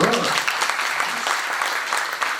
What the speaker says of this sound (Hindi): अरे भाई हमारे पुलिस दोस्तों के लिए तालियां तो बजा दो